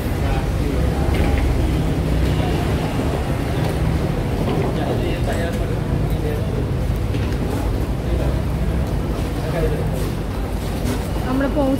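Speedboat engine on the ride to Malé airport in the Maldives drones loudly and steadily together with water rush, while a person talks over it throughout.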